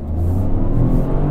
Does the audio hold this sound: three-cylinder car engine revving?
yes